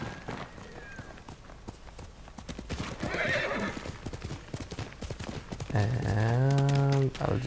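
Hooves clip-clop in a steady, rapid rhythm as a horse approaches in the video game Ghost of Tsushima Director's Cut, ending with a loud, deep snorting whinny up close.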